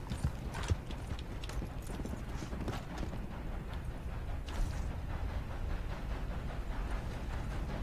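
Horse hooves clip-clopping in a Red Dead Online game, a faint, quick patter of hoofbeats running steadily beneath low background noise with little talk.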